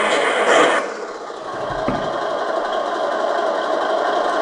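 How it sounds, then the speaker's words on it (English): An RC truck with realistic hydraulics runs its engine, a steady droning hum holding at an even level after a brief louder opening burst, with no talk over it. "So let's turn on the engine."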